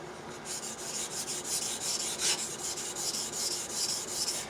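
A steel blade is rubbed back and forth across a Norton waterstone, giving a steady wet rasping scrape in even repeated strokes, close and alone.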